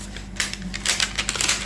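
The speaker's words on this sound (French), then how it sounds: "je vais juste couper." Short crisp snips and crackles of craft material being cut, a quick run of small sharp clicks close by, no talk.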